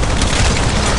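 Gunfire in Apex Legends Mobile sounds as a loud, dense, booming blast that fills about a second with no gaps between hits.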